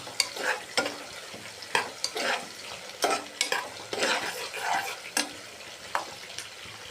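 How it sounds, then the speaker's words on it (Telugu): Green chillies fry in a pan of hot oil for masala chaap curry, giving a steady close sizzle broken by repeated scraping stirs and clinks, with no talking. "పచ్చిమిరపకాయలు వేసుకొని ఫ్రై చేస్తాం."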